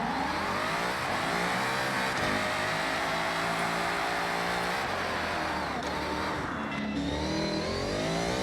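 Mustang Dark Horse in Forza Horizon 6 fitted with a race transmission, engine droning loud and steady with a high gear whine layered over it, holding throttle throughout with a brief dip near the end.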